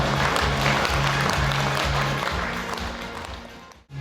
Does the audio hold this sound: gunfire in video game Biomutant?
no